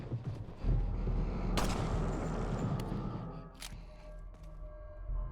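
Gunfire in Resident Evil 4 HD, with a loud booming shot and crackling blasts over a rumbling game soundscape, a few sharp reports standing out.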